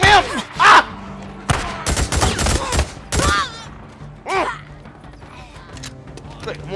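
Gunfire in the Days Gone video game: rapid loud shots in bursts and single cracks, close and sharp, mixed with shouting and speech from the player.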